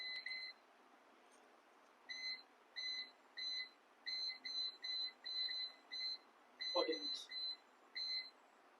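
A string of short, high electronic beeps from a Prestige 12-litre air fryer oven set to 200 degrees repeats in an even rhythm, fairly quiet, with a brief knock partway through.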